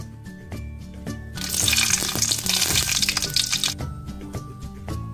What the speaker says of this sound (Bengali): এখন এর মধ্যে দিয়ে দেবো শুকনো মরিচ